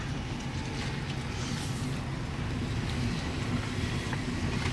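Hybrid car out on a short test drive riding on a temporary donut spare, a steady broadband road and engine rumble with wind noise running unbroken throughout, no voices.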